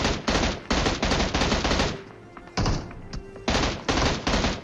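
Rapid bursts of M16 rifle fire in the PUBG battle royale game, loud and close, with several automatic strings separated by a short lull of quieter ambient game sound.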